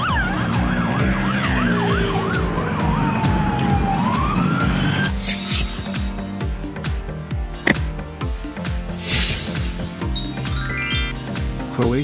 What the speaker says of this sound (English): Croatia Police Car.